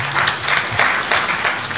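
An audience bursts into steady applause, many hands clapping close together in a continuous, lively wash for a couple of seconds.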